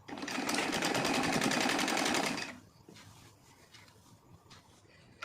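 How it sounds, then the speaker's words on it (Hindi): A sewing machine runs fast and steady, stitching heavy silk saree fabric along an armhole seam, then stops abruptly midway and leaves quiet handling noises and faint clicks close by. "इसे मैं इसके ऊपर रख कर सिलाई करते जाऊँगी।"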